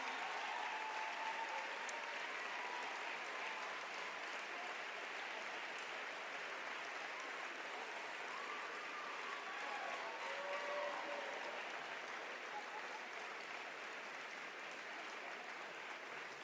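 Sustained applause at a Liberal caucus holiday party honouring a constituency staff team, a continuous, even roar of many hands clapping for a long stretch, fairly distant and uniform, with faint cheering voices mixed in.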